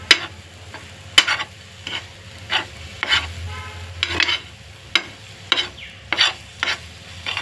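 Crushed peanuts stirred into brinjal frying in oil, with sharp, regular scraping strokes against the pan about once a second over a low sizzle, close and clear, no voices.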